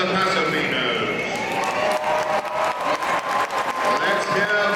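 Spectators at a Spanish horse show applaud and cheer for Paso Fino horses in a competition, crowd noise swelling under an announcer's voice and excited shouts.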